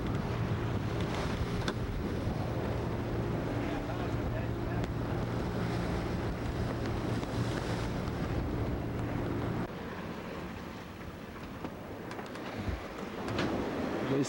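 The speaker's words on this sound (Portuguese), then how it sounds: "E as vagas continuam a pegar o veleiro." A sailboat out at sea off the Rio Grande bar in southern Brazil, with steady broadband wash of waves and water against the hull under constant wind buffeting on the microphone, a low engine-like hum running beneath.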